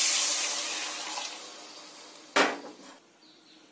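Water is poured into a pan of cooked-down spices for an egg and potato curry, giving a rushing splash that fades. A single sharp clank of cookware follows.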